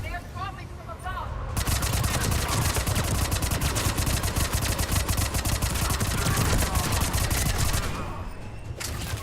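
A mounted gun in the Mass Effect 3 battle rattles out a long, loud, continuous burst of rapid fire that dominates the soundscape, with a voice audible just before it starts.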